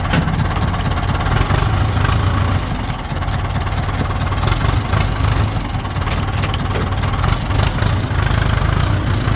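Old single-axle Ford 6610 tractor engine runs steadily nearby, a loud, rough low diesel rumble with uneven chugging and clatter that continues without pause.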